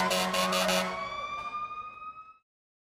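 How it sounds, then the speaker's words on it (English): A fire truck siren sounds loud and close in a short blast, its tones holding steady before trailing off with a fading ring. "The fire truck sounds like this."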